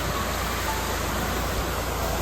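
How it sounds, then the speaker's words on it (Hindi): Birthi Falls in Uttarakhand, a constant broad roar of falling water, steady and unbroken with no voices. "दूर से ही ये मैजेस्टिक वाटरफॉल आपको दिखाई देने लगता है"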